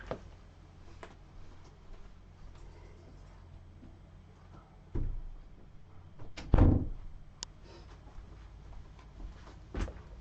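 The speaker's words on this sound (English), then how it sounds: "I'll just shut my door because she's being naughty." A door shuts with a loud, close thunk, followed by a few softer knocks and handling sounds in a quiet room.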